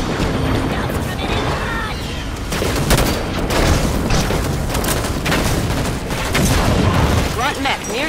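Heavy gunfire and booming explosions from a Halo 5 Warzone Firefight battle against Covenant forces, dense and continuous at close range, with repeated bursts and blasts over the whole stretch.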